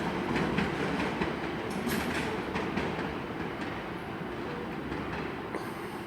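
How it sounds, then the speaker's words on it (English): A TfL Rail Class 345 train departs London Paddington toward Hayes, its steady rumble and rail clatter filling the station continuously at moderate volume, with no talk. "Also departing out is a TfL Rail service to Hayes and Hardington"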